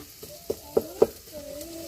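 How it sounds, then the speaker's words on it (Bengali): Onion and green chili frying in oil in a village kitchen, a low sizzle punctuated by three sharp spatula knocks against the pan, with faint tonal squeaks in the background. "পেঁয়াজ কাঁচামরিচ আর তেল দিয়ে তেলানি ভেজে নিচ্ছে"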